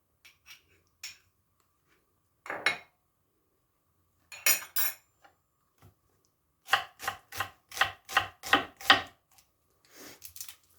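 A knife chops a dry onion on a board for a sautéed mallow dish, starting with a few scattered cuts and then a steady run of about eight sharp, close knocks, with no talking.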